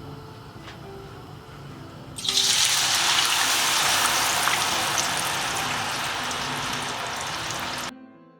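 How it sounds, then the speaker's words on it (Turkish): Potatoes tipped into hot frying oil set off a sudden loud, dense sizzling hiss that starts abruptly and roars steadily for several seconds, then cuts off. No one talks. "Patateslerimizi kızgın yağımıza atıyoruz."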